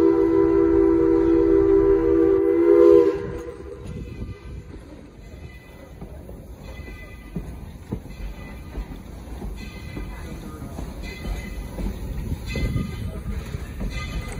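A steam train at a lumberjack camp museum sounds a loud whistle, then runs along the rails with a steady rumble and rhythmic clatter as it picks up speed.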